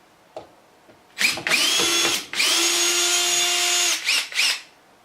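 A power drill backs a screw out of a large piece of wooden wall trim indoors. It gives a short blip, then two loud sustained whirring runs separated by a brief pause, ending with a few quick bursts.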